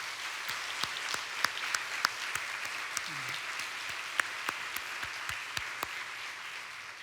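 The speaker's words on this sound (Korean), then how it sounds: "우리 하나님 앞에 박수 한번 해야 되잖아" A church congregation at a Sunday afternoon worship service gives a short round of applause, light distinct claps scattered over a quiet hall, fairly faint and sparse.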